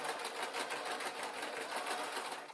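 A sewing machine stitches soft dress fabric in a steady, fast, even whir that runs the whole time, close and fairly loud, with no voices.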